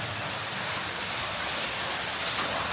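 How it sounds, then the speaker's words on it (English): Water pours from a waterfall inside the Excelsior tunnel, a close, constant rushing hiss with no variation and no voices. "Now we've got to get under this waterfall here"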